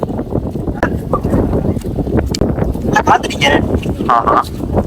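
Strong sea wind buffets the microphone on the Colombo seafront in Sri Lanka, a constant low roar running under people talking nearby.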